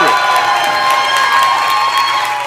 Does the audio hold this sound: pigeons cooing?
no